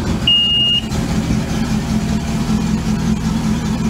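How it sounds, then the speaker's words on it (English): Volvo Penta 5.0 GXI marine engine on a boat idling steadily at a low, smooth rumble, close and loud, with a brief high tone near the start and no talk. "That's a beautiful idle."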